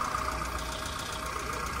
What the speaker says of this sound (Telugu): ఇంజన్ సైలెంట్గా ఉంది